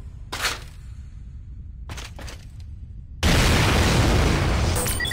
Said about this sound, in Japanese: 爆破成功よ。